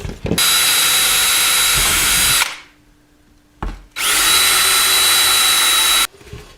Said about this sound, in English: I drilled a hole with this drill right here in the airbox